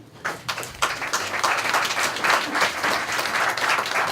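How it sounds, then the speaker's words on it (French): Audience at a Brazzaville knowledge-café debate applauding a former minister, clapping that starts scattered and quickly thickens into steady, moderately loud applause from a roomful of people. "Merci de l'applaudir."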